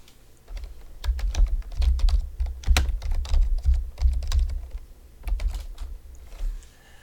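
Someone types a short note on a computer keyboard, a run of close, crisp key clicks in uneven bursts with brief pauses.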